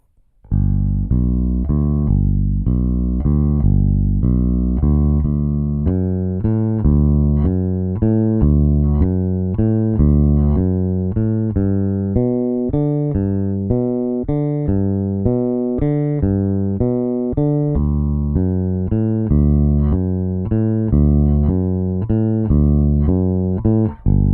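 A bass guitar plays a steady, rhythmic New Orleans funk line of plucked notes on its own, moving between pitches without pause for about twenty seconds.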